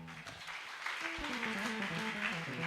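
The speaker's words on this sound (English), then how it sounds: "If the hand is for Jesus, clap it louder." A church congregation clapping at a worship service, soft and continuous beneath a voice that talks or sings over the top throughout.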